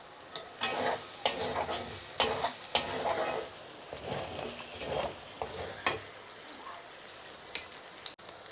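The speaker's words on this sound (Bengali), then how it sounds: "একটু কষিয়ে নেব" Whole spices—bay leaves, black and green cardamom, cinnamon and cumin seeds—frying in oil for a duck curry, with a steady low sizzle broken by repeated scraping stirs and knocks of a spoon against the pan.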